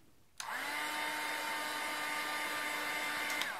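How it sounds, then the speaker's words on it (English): A heat gun switches on abruptly and blows steadily for about three seconds over scored craft foam, a close, even whirring hiss with a faint tonal whine, then cuts off. "and then using a heat gun"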